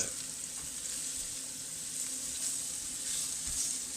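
Food sizzles steadily in a hot pan while a lasagna is cooked, a soft continuous frying hiss with faint stirring scrapes, fairly quiet and close with no talking.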